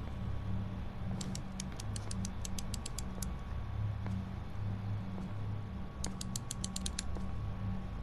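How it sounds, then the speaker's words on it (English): A box cutter blade in the Home Sweet Home video game, clicking out in quick rattling bursts of sharp ratchet-like ticks, two clusters heard over a low steady ambient hum. "is that a box cutter or something? Because it sounds like it."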